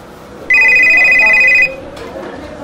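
An electronic telephone ringtone sounds as a loud, steady ring for about a second, cutting off abruptly, with room noise and faint voices around it at a Christmas illumination evening event.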